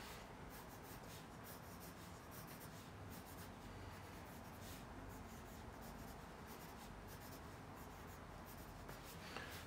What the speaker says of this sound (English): I'm gonna do a little drawing in the middle here